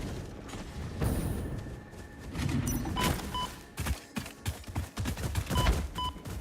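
Gunfire during combat in the video game Satisfactory, a cluster of sharp shots and bursts over a steady rumbling backdrop, close and fairly loud, with no talking.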